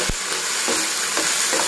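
Ginger garlic paste frying in a pan, a steady close hiss with a few soft scraping stirs, no talking.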